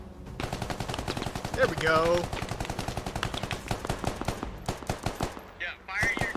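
Rapid bursts of gunfire from the video game Squad crackle almost continuously, near and loud, with overlapping shots layered against radio chatter and brief talking.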